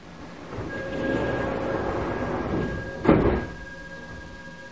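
A Gyeonggang Line commuter train bound for Bubal rumbles steadily as it pulls away after its doors close, with a brief louder clunk near the end.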